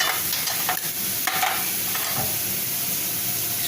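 Green chillies and fenugreek seeds frying in hot oil, a loud, dense, continuous sizzle with a few short scraping stirs near the start, heard up close and without talk.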